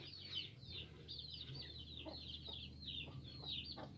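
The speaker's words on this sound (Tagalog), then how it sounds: "May mga kasama pang manok yan sila sa loob." Chickens cluck in repeated short bursts over a steady low hum, several birds close by with no talking.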